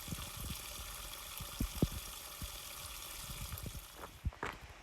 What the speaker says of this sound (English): Filtering water from a nice pipe spring here.